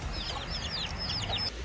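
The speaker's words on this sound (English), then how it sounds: "there's a bunch of baby chickens under our car" Several chicks cheep under a car in Maui, Hawaii, in quick, high, overlapping chirps over a low background rumble, fairly faint and close by.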